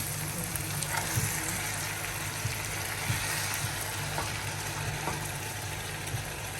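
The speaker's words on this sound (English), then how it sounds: "as you can see, it has been frying very well" Ayamase pepper sauce fries steadily in a pan, giving a continuous loud sizzle and crackle with faint stirring scrapes scattered throughout.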